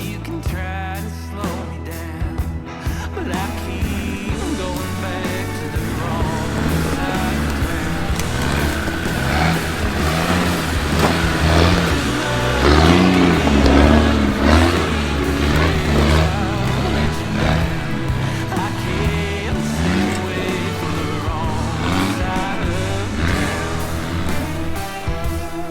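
A 4x4 engine strains and revs under load as it is driven up a steep step on a rough West Wales green lane, a loud continuous rumble rising and falling over many seconds, heard alone without speech.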